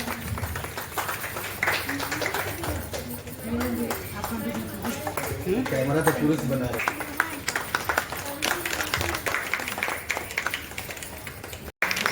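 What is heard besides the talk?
audience clapping at a club installation event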